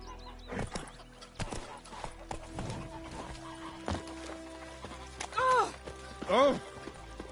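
Roach the horse in a video game, hooves clip-clopping in a brisk trot with a couple of snorting whinnies near the end, close and clear, with some talk.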